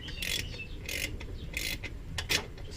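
A ratchet tightens a long bolt on a Honda Civic motor mount, giving bursts of rapid metallic clicking in short strokes, repeated about five times in a steady back-and-forth rhythm, close and without talk.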